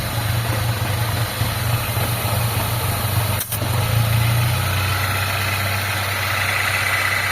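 A car engine idles steadily up close with a hydrovac vacuum hose removed, giving a constant low hum and mechanical drone, one brief dip midway, and no talking.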